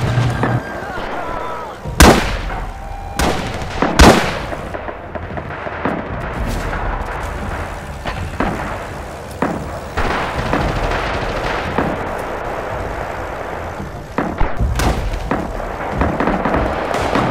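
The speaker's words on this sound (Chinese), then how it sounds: "别乱扔手雷" Battle din in the war shooter Rising Storm: repeated grenade blasts and booming explosions sound among steady rifle and machine-gun fire, loud and continuous, with voices talking underneath.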